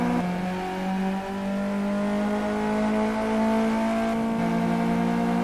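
A race car engine in the Simraceway racing video game holds a steady, sustained drone at near-constant pitch, with a slight dip and recovery partway through. No speech is heard.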